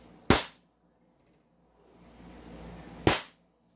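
Two sharp, loud shots from a JWC Combat Master 1911 airsoft pistol, about three seconds apart, with a quiet pause and faint background rumble between them.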